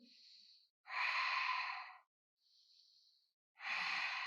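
Long, deep breaths during a hatha yoga session, slow inhales and exhales alternating in a steady rhythm, close and clearly audible with no talking.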